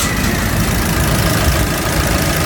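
Car engine idling smoothly after a repair, a steady close low hum with an even mechanical drone and no shaking or revving.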